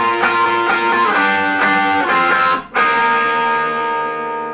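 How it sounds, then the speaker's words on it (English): A loud, distorted electric guitar plays a melodic lead riff of sustained, overdriven notes with a brief dropout before a final held note rings out. "The lead guitar part in the introduction"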